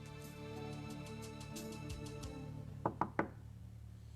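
Three sharp knocks sound on a door, quick and close, over a quiet hum and faint background music.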